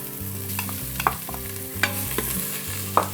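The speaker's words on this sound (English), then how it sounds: "Give that a good little stir." Spices frying in a pot for a spinach dal are stirred, with spoon clinks and scrapes over a soft steady sizzle, a few sharp taps standing out, no voices.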